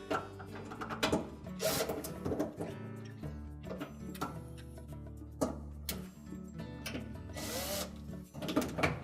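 A power drill drives screws to secure the motor of a Whirlpool washer, with several short whirring bursts and clattering metal handling in between, close and moderately loud.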